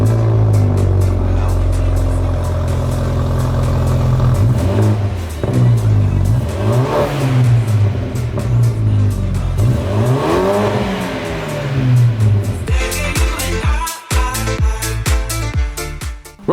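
A BMW 220i fitted with an aftermarket exhaust starts up close by, then revs repeatedly in rising and falling sweeps before settling, with a few sharp blips near the end.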